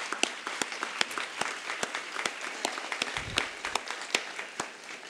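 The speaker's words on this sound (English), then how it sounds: "So can you please give a big round of applause?" Enthusiastic applause at a dedication ceremony, a room of clapping hands with some sharp individual claps standing out, sustained for several seconds.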